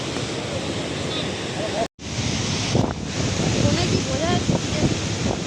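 Water rushes steadily through Durgapur Barrage in the rain, a broad continuous roar buffeted by strong wind on the microphone, with a brief dropout and faint voices in the background.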